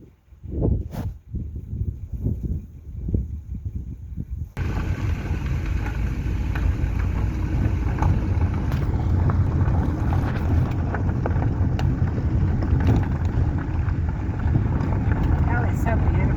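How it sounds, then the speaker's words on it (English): A fast tractor drives past on a country road near the Cato, Kansas ghost town. A loud, steady rumble with rushing noise sets in abruptly and holds close for the rest of the stretch, after brief talk at the start. "Got a tractor coming, and he's not a slow one either."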